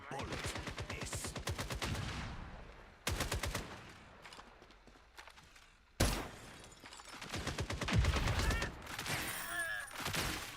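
Rapid automatic gunfire bursts from a shooter video game, with sharp rattling volleys broken by brief pauses and a few heavier single shots, while a voice speaks between the bursts.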